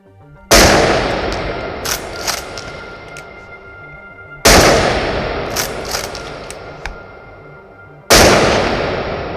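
Three loud, sharp Mosin bolt-action rifle shots in a VR game, spaced about four seconds apart, each booming report followed by a decaying tail and smaller clicks of the bolt being cycled between shots.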